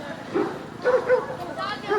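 Dogs bark and yip in short bursts just after a rifle salute at an outdoor Veteran's Day ceremony in Groton, Massachusetts, with a voice speaking over them.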